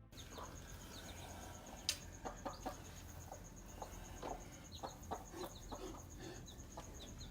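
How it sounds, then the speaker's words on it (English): A mother hen tends her chicks in an outdoor farm setting, giving soft scattered clucks and peeps at a moderate distance over steady background hiss, with one sharper call standing out briefly. "a mother chicken was seen tending to her clucking little ones"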